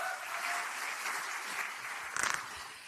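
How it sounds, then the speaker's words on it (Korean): Audience applause at a Democratic Party joint meeting, a steady wash of many hands clapping filling the room throughout, with a brief sharper burst of claps near the end. "박수 보내주시기 바랍니다"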